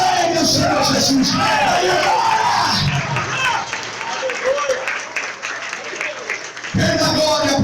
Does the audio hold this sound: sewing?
no